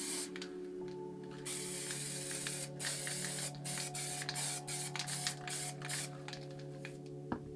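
MTN water-based spray paint hissing from a can in long, even bursts, close and fairly loud with brief pauses between passes, over a steady low hum.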